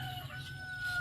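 Free-ranging chickens on a Philippine farm give a brief, faint snatch of clucking over a low background rumble, lasting about a second with no voices.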